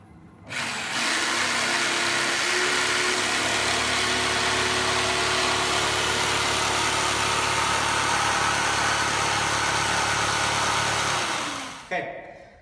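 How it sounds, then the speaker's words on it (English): A jigsaw cuts through a windowsill in one long, loud, continuous buzzing pass, starting abruptly and stopping near the end. "I'm going to cut this out on both sides. I'm just going to use my jigsaw."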